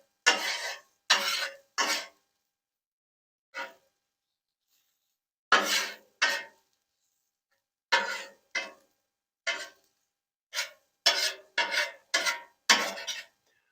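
Eggs being stirred in a frying pan, sounding as a series of sharp, close scrapes and clinks of a utensil against the pan in irregular bursts with quiet gaps between them.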